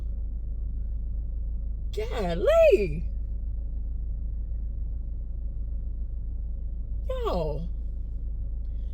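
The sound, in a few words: heavy road traffic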